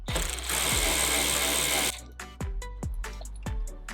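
A ratchet spins rapidly, then clicks in short strokes against a 10mm bolt holding a tailgate handle on a 3rd-gen Toyota 4Runner, close and fairly faint, with a steady low hum underneath.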